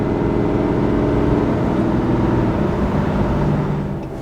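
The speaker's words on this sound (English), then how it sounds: "if I were to give it wide open throttle, this is as loud as it's gonna get" Steady, loud engine drone from inside the cab of a RAM 3500 HO Cummins diesel truck at wide open throttle towing a big fifth wheel, a sustained low rumble throughout.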